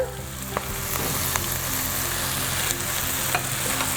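Nasi mawut stir-fried with spring onions in a pan, hissing and sizzling continuously under repeated close scraping stirs, with no voices.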